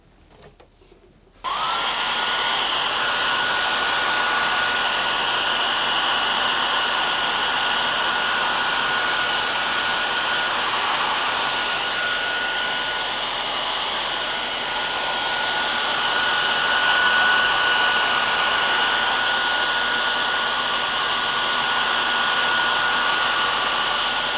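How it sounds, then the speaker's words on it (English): A hair dryer switches on after a moment of quiet and blows with a loud, steady whir that runs on without pause, drying a craft canvas. "So I'm just going to quickly dry this off with the hairdryer."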